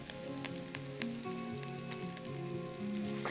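Onions and curry leaves with dried red chillies frying in hot oil, a quiet continuous crackling sizzle with scattered pops, heard close and alone under faint background music tones.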